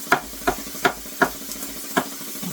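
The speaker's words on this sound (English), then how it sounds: "the onions are cooking through here" Onions cooking in a pan, a quiet sizzle punctuated by a regular series of about six sharp spatula scrapes close by, without any talking.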